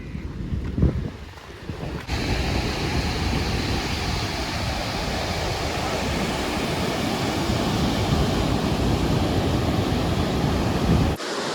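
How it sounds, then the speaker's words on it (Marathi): Rough Arabian Sea waves crash and roar continuously on the shore at Karwar, a dense, loud wash of surf with heavy wind buffeting the microphone throughout. "भयंकर म्हणजे भयंकर समुद्र खवळलेला आहे"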